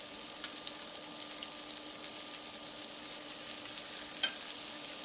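Salmon fillets laid face down in a hot frying pan give off a steady, even sizzle, with a couple of faint pops over a continuous hiss and no voices.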